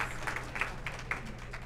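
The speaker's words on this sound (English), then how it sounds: "He gets a round of applause for that one." An audience gives a round of applause, a soft, steady patter of many hands clapping at moderate distance, with a few sharper claps standing out through the short burst.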